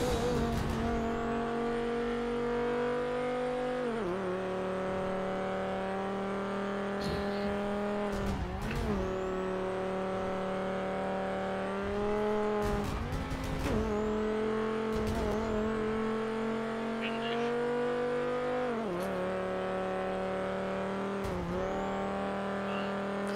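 Loud racing cars in a video game roar past continuously, with repeated sharp tire squeals and revving engine pitch sweeping up and down as they corner; the engine sound dominates throughout and no voices are heard.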